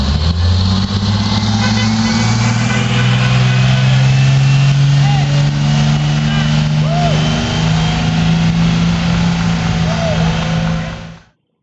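A GM/MCI TC40102A Classic transit bus engine drones loudly and steadily from close by, with a slowly rising pitch as it pulls away, ending in a quick cutoff.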